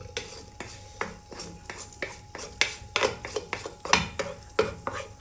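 Mustard seeds fry for tempering in a pan beside a simmering Kerala pumpkin curry, with close, repeated crackling pops and scraping stirs that come in irregular bursts.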